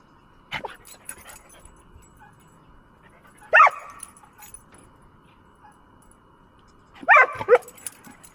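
A herding dog among goats gives three sharp, separate barks several seconds apart, fairly close, with quiet background between them.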